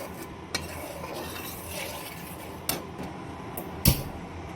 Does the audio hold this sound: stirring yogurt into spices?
yes